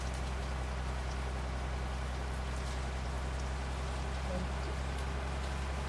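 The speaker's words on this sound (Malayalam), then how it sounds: "മഴ വന്നു ഗൈസ്." Rain falls in a KSRTC bus simulator game, a steady, even hiss of rainfall holding at a constant level from start to finish.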